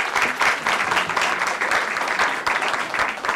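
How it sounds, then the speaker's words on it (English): Attendees at a university town hall meeting giving a round of applause, loud sustained clapping from a crowd in a room, dense and uneven with swelling bursts, no talk over it. "So give yourself a round of applause"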